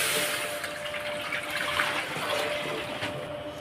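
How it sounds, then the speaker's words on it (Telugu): Water pours steadily into a cooking pot for boiling rice, a continuous close rushing splash that holds its level throughout, with no voices. "అందుకు వాటర్ వేసుకుందాం"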